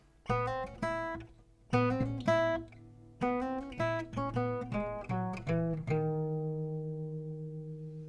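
A short plucked acoustic guitar riff from a song, bright single notes in a quick pattern, played alone, ending on a sustained ringing note that slowly fades.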